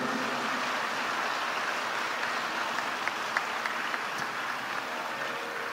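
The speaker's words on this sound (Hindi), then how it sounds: "एक बार जोरदार ताली बजा के धन्यवाद दो।" A crowd at a Hindu religious discourse claps loudly and continuously, a dense wash of applause holding steady throughout with no voices standing out.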